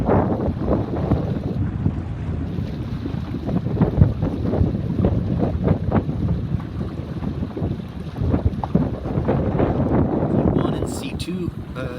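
Wind buffeting the microphone during a sabot dinghy regatta on a breezy day at around eight knots, a constant gusty rush with water sloshing and muffled voices mixed in throughout.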